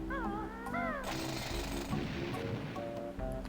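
Bill Drill move from the video game Banjo-Tooie: a short burst of rapid mechanical drilling clatter, preceded by chirpy warbling game sounds, with the busy game audio continuing throughout.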